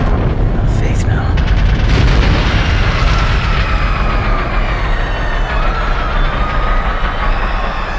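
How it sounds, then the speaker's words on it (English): Explosion sound effect in a science-fiction radio drama aboard a great ship: a loud booming blast with crackling debris up front, followed by a long rumbling roar that slowly fades, with voices speaking over it. "There's been an explosion."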